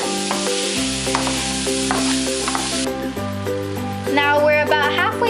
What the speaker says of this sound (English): Break up that beef, make sure it's not clumpy when you're cooking it